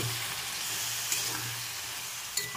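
Dried fish curry with radish, potato and eggplant sizzling in a pan just after a little water is added, a steady hiss with a couple of soft knocks, no talking.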